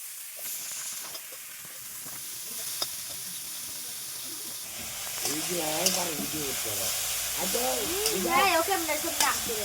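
Bottle gourd leaves fry in a pan with black cumin, a steady sizzle with scraping stirs. A voice talks over the second half.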